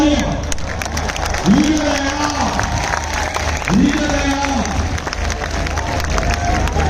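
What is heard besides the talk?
rally crowd applauding and cheering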